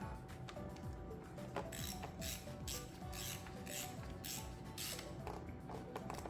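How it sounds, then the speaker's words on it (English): Ratcheting wrench tightening bolts on the PCV oil separator of an Audi Q5, 2011–2025 model range, giving steady clicking ratchet and mechanical clinks close by, with brief pauses between turns and no talking. "So now let's just use a systematic method of tightening them all up."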